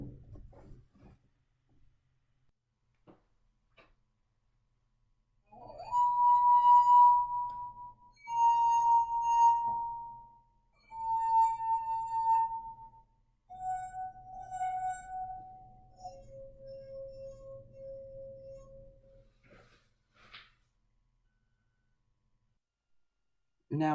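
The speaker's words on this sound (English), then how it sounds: "Well, there is, if you add water to the wine glass." A singing wine glass, rubbed around the rim, gives a series of sustained pure tones, with the pitch stepping lower as water is added between notes; each ring lasts a couple of seconds, separated by quiet pauses and faint handling noises.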